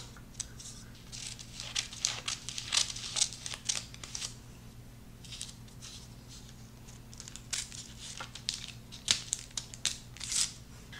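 Scissors cutting paper to line a brownie pan, a series of soft, close crinkling snips and rustles in uneven bursts over a faint steady hum, with no talking.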